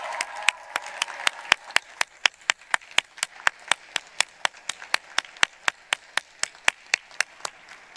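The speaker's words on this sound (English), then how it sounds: "Another round of applause for our amazing speakers." Audience at the MassArt commencement ceremony applauding student speakers, heard as a steady run of sharp, separate claps, fairly close and alone with no talk.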